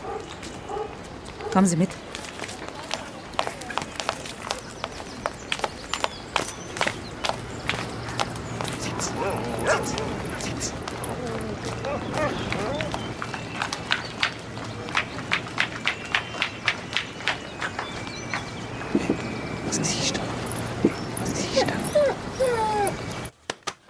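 A dog yips, barks and whimpers amid running footsteps and scuffling, with people talking throughout and sharp bursts clustering toward the end.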